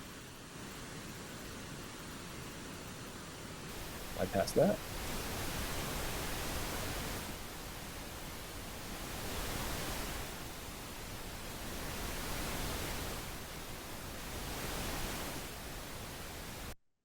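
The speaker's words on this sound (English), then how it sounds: "a pink noise. It kind of sounds like rain or water." Steady pink noise with a soft rain-like hiss plays continuously in stereo, sweeping from left to right across the speakers, with a brief clicky blip near the start.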